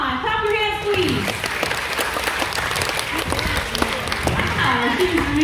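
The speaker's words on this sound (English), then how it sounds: "Clap your hands, please." An audience claps along at a sea lion show at Ocean Adventure in Subic Bay, with steady clapping running under a presenter's voice that speaks at the start and end.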